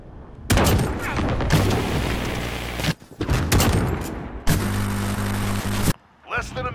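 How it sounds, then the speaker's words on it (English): Airstrike explosions and gunfire in Call of Duty Modern Warfare multiplayer, loud continuous bursts of rapid fire and booms in long stretches separated by brief lulls. "Airstrike on the way."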